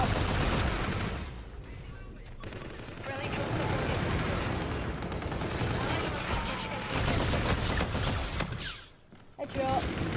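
The August weapon firing in Infinite Warfare, dense rapid gunfire rattling almost continuously with a voice talking over it, dropping out briefly near the end before another burst.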